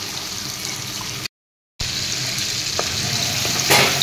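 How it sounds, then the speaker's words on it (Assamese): Cabbage cooks in a pan for chicken curry with a steady, fairly loud frying sizzle that runs throughout, broken by one brief gap of silence, with a few soft stirring knocks near the end. "এনেদৰে কবিখিনি প্ৰথমতে সিজাই ল'ব লাগিব"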